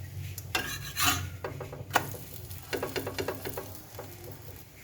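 Bread slices frying in a pan for party toast, scraping and rubbing of a spatula with bursts of sizzle, close and fairly loud, no voices.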